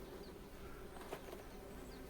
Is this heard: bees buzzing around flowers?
yes